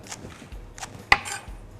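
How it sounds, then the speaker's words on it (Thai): A knife chops sawtooth coriander on a cutting board in a few separate strokes, one sharper knock standing out, with quiet pauses between. "ผักชีใบเลื่อยเนี่ยผม หั่นให้เขาเป็น หยาบนิดหน่อยนะครับ"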